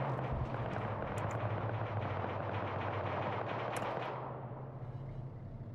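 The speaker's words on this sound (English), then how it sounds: "Hearing some more gunfire going out." Dense, continuous automatic gunfire in the video game Arma 3 rattles without pause, heavy and sustained, then eases slightly toward the end.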